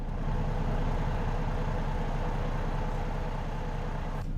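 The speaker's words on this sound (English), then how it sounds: "Hopefully truck audio sounds good for everyone." A Volvo truck engine in American Truck Simulator drones with a steady, low idle, loud and close with no talk over it.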